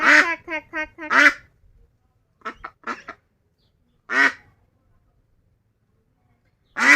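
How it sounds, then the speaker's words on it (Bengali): A white duck quacking loud and close, a quick burst of several nasal quacks, then scattered single calls separated by pauses. "অনেক সুন্দর সাদা হাঁস।"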